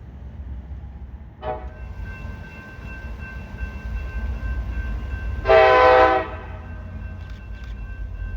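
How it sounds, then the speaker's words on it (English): A CSX SD70MAC locomotive sounds its horn in a loud blast of about half a second near the middle, after a brief earlier toot, over a steady low rumble of a passing train. "This SD70 Mac has a great horn."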